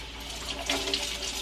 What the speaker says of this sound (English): run a little bit of cold water when you're running the pepper through there